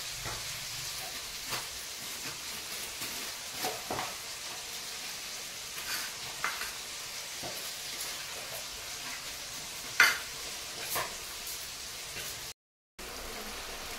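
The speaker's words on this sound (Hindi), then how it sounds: "हमारा मछली कैसा डबक रहा है।" Village fish curry with mustard and tomato bubbling in a pan, a faint, steady hiss with occasional soft pops and clicks, quiet and distant, no one speaking, with a short dropout near the end.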